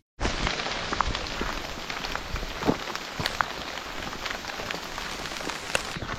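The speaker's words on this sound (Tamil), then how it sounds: "மக்களே பார்த்தீங்கன்னா மழை வர ஸ்டார்ட் ஆகிடுச்சுங்க." Rain falling steadily in a hill village, a dense continuous patter on surfaces with scattered louder drops, close and unbroken throughout, with no voices.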